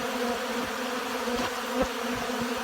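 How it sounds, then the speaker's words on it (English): Honey bees swarm around a syrup feeder in April, a steady close-up buzzing drone with individual bees whirring past now and then. "Well, these bees are going absolutely bonkers over this."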